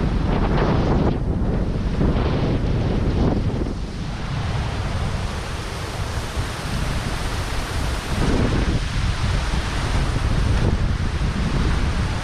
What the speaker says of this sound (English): it was very windy and the water kept on coming back onto my face